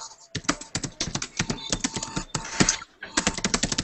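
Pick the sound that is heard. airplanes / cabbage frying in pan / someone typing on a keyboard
someone typing on a keyboard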